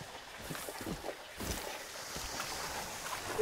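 Faint water lapping and splashing in the Far Cry 5 game, soft and continuous against a low outdoor background.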